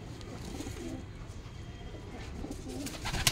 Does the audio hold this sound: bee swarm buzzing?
no